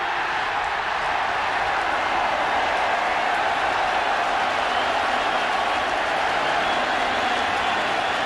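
A packed Veterans Stadium crowd roars steadily after a Philadelphia Eagles touchdown against the Washington Redskins in a 1995 NFL game, a dense, sustained wash of cheering and clapping with no break.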